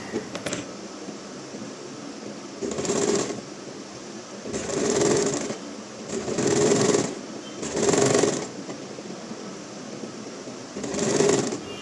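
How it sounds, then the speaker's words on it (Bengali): A sewing machine stitches the neckline of a homemade Eid dress in five or six steady bursts of whirring, each a second or so long, separated by short pauses over a faint room hum. "এখন হচ্ছে আমি গলার ডিজাইনটা করে এখন সেলাই করে ফেলতেছি"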